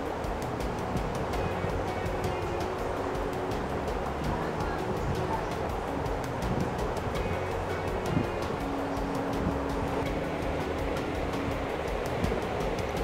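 Coconut and poppy seeds churn in a mixer grinder, its loud, even motor roar running unbroken from start to finish, with a voice faintly present beneath it.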